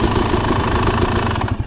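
A dirt bike engine runs steadily close by, a continuous buzzing drone with no talk over it.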